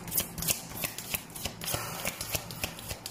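Wisdom of the Oracle cards being shuffled by hand, close crisp riffling bursts repeating in a quick irregular rhythm with no talk.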